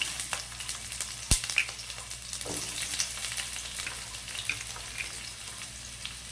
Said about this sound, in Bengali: শুকনো লঙ্কাটা হালকা একটু ভাজা ভাজা হয়ে আসলে আমি এখানে কেটে রাখা পেঁয়াজ দিয়ে দিলাম